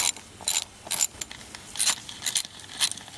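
A hand ratchet loosens the 10mm bolts holding a Honda wiper motor, giving short bursts of crisp metallic clicking in quick irregular runs with brief pauses between them, close and clear without any voices.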